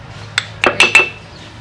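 Oregano, cumin and black pepper dropped into a stone molcajete: four close, sharp clinks and taps in quick succession, ringing briefly in a quiet room.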